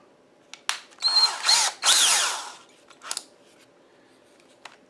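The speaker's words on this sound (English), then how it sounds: "I'm going to put in a step bit." A power drill with a step bit bores a half-inch hole in short bursts, three loud whirring runs with clicks and handling noises between them.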